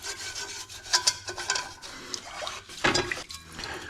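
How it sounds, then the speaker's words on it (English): Steel wool scrubs rust from a cast iron pan in short, irregular rasping strokes, close and fairly loud, with gritty scraping bursts and brief pauses between. "we're just gonna try scrubbing this out"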